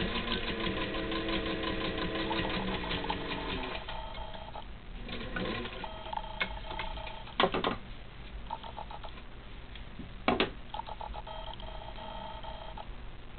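A 1940 Singer 15-91 sewing machine stitching, a fast steady mechanical whir and clatter at first, then slower controlled bursts with pauses and a few louder clunks, close and clear.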